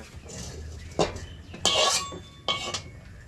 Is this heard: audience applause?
no